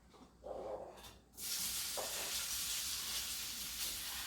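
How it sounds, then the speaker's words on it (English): Quartered sausage browning in bacon fat over medium heat for Southern shrimp and grits, a steady broadband sizzle that starts abruptly after a few brief clatters and then holds loud and even. "I'm going to saute these and brown them in my bacon fat."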